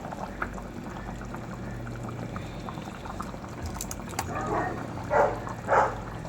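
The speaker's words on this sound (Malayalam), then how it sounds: "നമ്മുടെ വിനാഗിരി ചേർക്കാൻ പോവാണ്." Vinegar goes into a simmering cooking pot, with a steady bubbling hiss and then two louder splashing pours close to the end.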